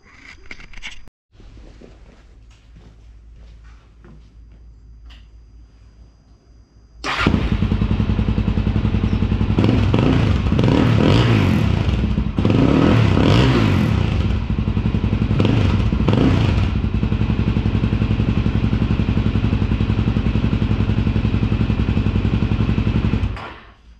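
Suzuki DR-Z400SM motorcycle with a Yoshimura RS-2 exhaust and JD jet kit, idling quietly at first, then running loud and steady close by with some blips of the throttle.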